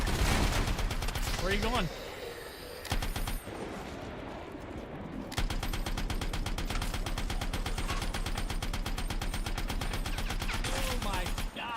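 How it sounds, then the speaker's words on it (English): Rapid LMG machine-gun fire in the game Anthem, long sustained bursts of tightly spaced shots with a brief pause midway, loud and close, while a voice speaks briefly over the shooting. "let's change to the old LMG and lay hate on this dude"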